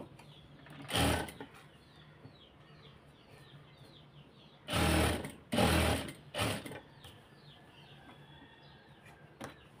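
A sewing machine stitches a garment neck design in short bursts, one then a cluster of three close together, each a quick rattling whir, with faint ambient chirps between them.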